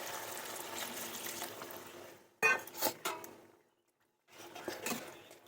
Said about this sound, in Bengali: এবার আমি একটু জল দিয়ে দেবো